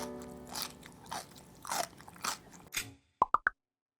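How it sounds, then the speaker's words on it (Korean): Washed cucumbers crushed with a rolling pin for a Japanese-style smashed cucumber salad: a run of crunchy, squelching whacks, then three sharp, separate knocks, close and alone. "밀대로 오이를 두드려 줍니다"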